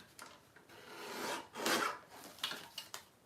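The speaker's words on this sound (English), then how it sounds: "I'm just trimming this down." Collage masterboard paper is trimmed with soft rasping cuts and rubbing strokes, quiet and close, a few scrapes of varying length with one louder swipe in the middle.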